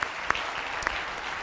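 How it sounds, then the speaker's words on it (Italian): A studio audience at an Italian local television show applauds, a dense, steady patter of clapping with a few sharper individual claps standing out, heard alone without talk. "facciamogli un applauso"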